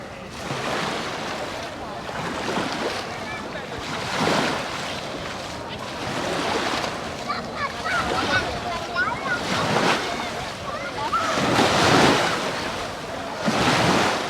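Sea waves wash in at the water's edge on a beach at Santa Ponsa, each surge swelling and receding in a regular rhythm every couple of seconds, with wind buffeting the microphone throughout.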